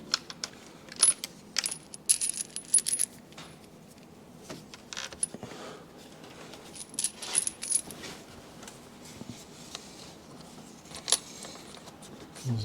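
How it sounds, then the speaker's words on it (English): Bolts dropped one by one into an AMG M156 intake manifold give sharp metallic clinks and jingles in scattered bursts against a quiet background. "Drop in our new bolts."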